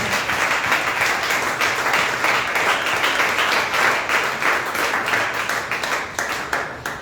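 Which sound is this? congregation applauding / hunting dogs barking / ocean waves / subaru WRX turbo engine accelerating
congregation applauding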